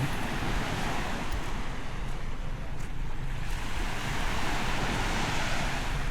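A constant wash of sea surf at Palauig, Zambales, with wind buffeting the microphone, broad and rumbling without pause.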